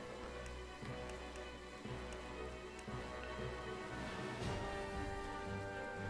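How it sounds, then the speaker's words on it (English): Steady rain in the video game Triangle Strategy, a soft continuous patter with a low rumbling bed and occasional faint drips, quiet and unbroken throughout. "it's already raining"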